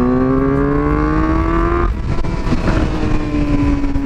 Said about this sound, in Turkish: Bir vites küçültüyorum. Açıyorum gazı.